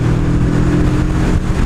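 A Moto Morini Seiemmezzo SCR motorcycle, whose engine is shared with the Escape in a bike 40 kilograms lighter, runs loud and close with a steady low engine drone and a slight rise in revs, with no talking.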